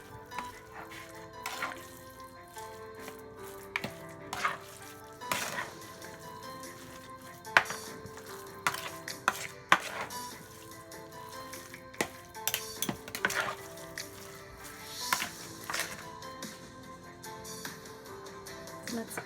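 A spoon stirs embutido meatloaf mixture with raisins and sugar in a bowl, producing irregular soft scrapes and occasional light clinks against the bowl, faint and close with no speech.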